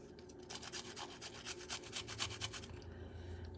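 A few pieces of a cooking ingredient being ground by hand for a ribeye and angel hair dish make a quick run of rhythmic, gritty scraping strokes, close and fairly quiet, then stop abruptly, leaving a low hum.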